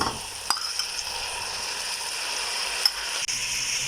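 Pre-fried sausages and mixed vegetables cooking together in a pan, an even close sizzle with a few sharp clicks of a utensil against the pan.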